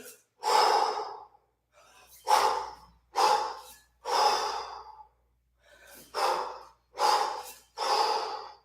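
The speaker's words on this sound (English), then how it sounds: "I'm going to breathe loudly so you can follow me." Loud, deliberate breathing during a kettlebell long cycle workout, seven or eight forceful breaths with sharp inhales and exhales at a steady rhythm, close to the microphone and separated by brief silences, with no talking.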